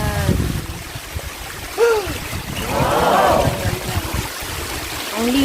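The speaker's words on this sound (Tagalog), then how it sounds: "Ang linaw ng tubig na umaagos." Water from a clear mountain stream flows and trickles steadily nearby, with a brief voice and a few splashy bursts in the mix.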